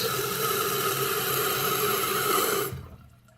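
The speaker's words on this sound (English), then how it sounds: "Water spraying all over the place." A steady hiss of water spraying from a toilet fill valve runs for a few seconds, then cuts off abruptly, leaving near silence.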